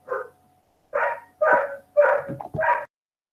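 A dog barks five times in quick, uneven yips and barks, close and fairly loud with short gaps, with no talk over it.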